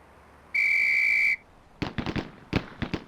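A whistle signal on a police firing range in the video game Police Quest: SWAT, one loud sustained blast followed by a rapid series of sharp gunshots.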